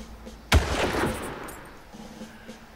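A single sharp gunshot cracks out in the video game Far Cry, with a booming tail that fades over a second or two, with low game ambience before and after.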